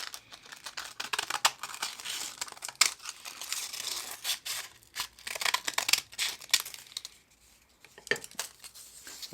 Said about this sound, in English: Don't use your good scissors for this job.